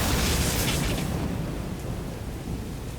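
Thunder and lightning in the video game AI: The Somnium Files, a loud broadband rumble with a crackling rain-like wash that slowly fades over a few seconds, with no voices.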